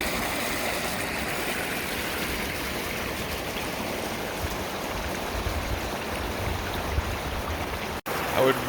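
A mountain stream on the Appalachian Trail in New Jersey rushes and burbles steadily nearby, a continuous broadband wash that breaks off abruptly near the end.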